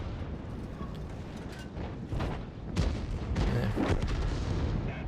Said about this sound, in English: Let's keep trying to fire this gun as often as we can then.